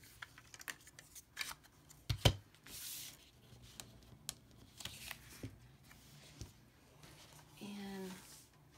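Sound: circle punch punching out paper circles

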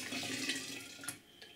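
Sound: pouring boiled tomato juice into a jar

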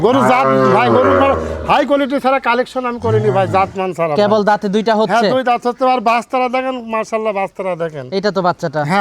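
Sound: cow mooing

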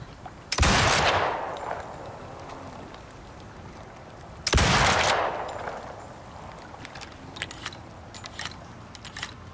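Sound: rifle shots fired from the hip in video game Icarus

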